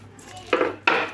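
Utensils clatter against a bowl while pakodi batter is mixed with green chillies, curry leaves and coriander: two short, sharp knocks about a third of a second apart, close and fairly loud, with no talking.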